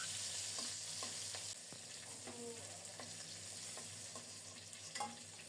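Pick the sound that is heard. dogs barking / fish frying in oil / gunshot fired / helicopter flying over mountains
fish frying in oil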